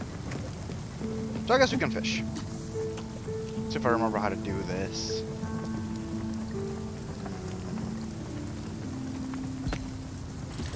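Steady soft rain falling in Spiritfarer, a continuous patter under a person talking and game chimes, with a brief sharp click near the end.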